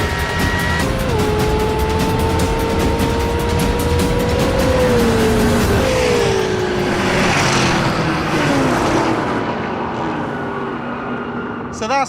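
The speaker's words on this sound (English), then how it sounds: "These are monster cars and they launch like crazy" Supercars including a McLaren and a Jaguar launch down a drag strip, engines roaring loud with gear-change steps in pitch that fall away as they pull off, with excited talking over the noise.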